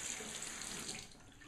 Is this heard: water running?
yes